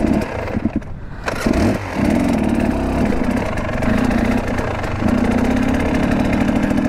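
Husqvarna TX300 trail motorcycle engine running steadily up close on a dirt trail, a continuous loud two-stroke drone with slight pitch rises and dips, without speech.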